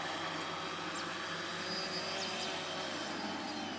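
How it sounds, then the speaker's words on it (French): An XK Detect X380 drone landing gives off a steady, even whirring drone that holds at a constant level for the whole stretch, with no voices over it. "le drone est en train de se poser"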